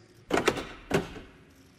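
A mechanical thunk and clack of a Mercedes-Benz G-Class door lock, a short double clunk followed by a second solid knock, fairly quiet and close.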